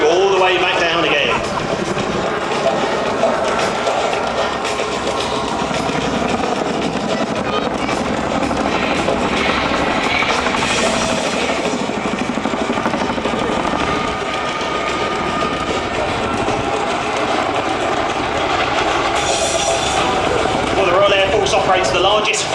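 A Chinook tandem-rotor support helicopter flying a display at the Biggin Hill Airshow gives a loud, steady rotor and engine roar that fills the whole stretch, with a commentator's voice running over it throughout.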